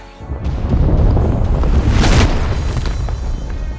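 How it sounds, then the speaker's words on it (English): Colossal boulders crash together in an animated fantasy story as a loud, deep rumbling roar that builds and peaks in a bright crashing burst midway, then slowly fades, with no voices over it. "The ground shook as the massive stones crashed together"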